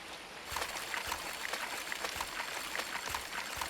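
A steady, gentle rush of a river flowing through a town in the video game Coral Island, with soft bubbling and trickling, continuous and moderately quiet, with no voices.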